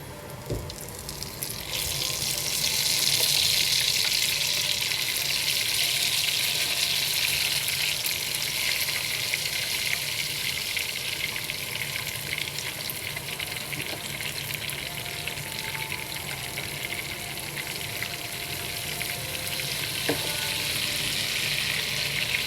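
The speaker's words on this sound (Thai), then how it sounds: "ทอดสมปลา ใส่ไข่" Fermented fish (som pla) with egg frying in hot oil, a steady loud sizzle and hiss that keeps going without a break, with occasional faint clinks and no talking.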